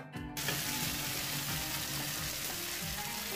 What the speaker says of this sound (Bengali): পেঁয়াজটা ভেজে আমি এখন ভাত দিয়ে ভেজে নেব।